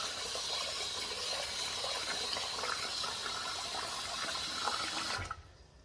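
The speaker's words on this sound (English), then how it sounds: "we're gonna pour water into this pot with the rice" Cold water runs steadily from a tap into a pot of rice for about five seconds, then cuts off abruptly, leaving near silence.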